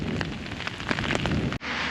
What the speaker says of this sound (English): it may be 2 kilometres accompanied by this rain